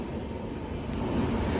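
The Tatanagar–SMVT Bengaluru express (12889) rolls through Bhimavaram station without stopping, a loud continuous rumble of wheels and coaches passing close by.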